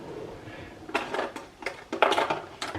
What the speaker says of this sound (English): I'm going to get a teaspoon if I can.